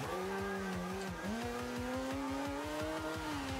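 A Mazda RX7 drifts in Forza Horizon 2: the rotary engine holds a steady buzzing drone with rapid pulsing while tires squeal in a long wailing tone that dips briefly, then climbs and sustains.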